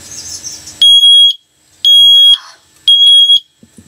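Water leak detector alarm placed on a floor, shrilling in three loud, piercing high-pitched bursts of about half a second each with short silences between, close and alone.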